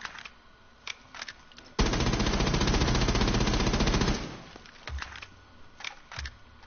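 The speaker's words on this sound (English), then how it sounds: "do you hear how fast this gun is?" Rapid-fire gun in the video game The Hunter, a single loud burst of fast, evenly spaced shots lasting over two seconds, framed by quieter clicks and thuds before and after.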